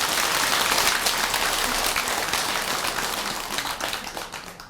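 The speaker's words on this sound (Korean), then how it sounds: "여기서 박수가 나와야 되는데." A Buddhist temple assembly at a dharma talk breaks into thick, continuous applause that starts strong and gradually tapers off, with no speech over it.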